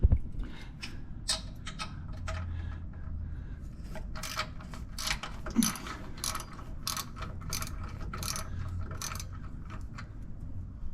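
Steady rapid clicking of a ratchet wrench turning out the bump stopper bolts on a 2024 Landcruiser 76 series rear suspension, repeated close ratcheting strokes with a short pause in the middle.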